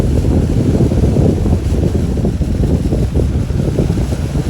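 A riverboat on a river in East Kalimantan, passing fish cages along the banks, slows down with a steady low engine rumble and water rush under constant wind noise across the microphone.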